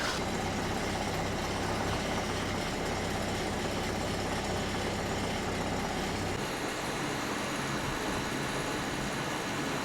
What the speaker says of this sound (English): Let's go kick the engine in gear and buggy on away.